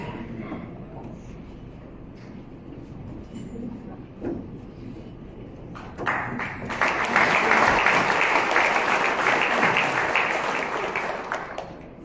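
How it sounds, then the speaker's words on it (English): An audience at the official launch of Vision 2050 applauds the panelists gathered on stage for a photo, with a dense burst of clapping that rises sharply partway through and stays loud before tapering, preceded by quieter room noise and murmuring. "please join me in applauding our panelists once again"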